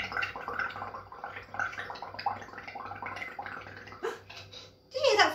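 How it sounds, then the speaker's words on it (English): Bubbling gurgle of air blown through a straw into a bowl of bubble paint, a steady burbling run with a louder burst near the end, close and alone. "Did you hear that funny noise it made when I was blowing the bubbles up?"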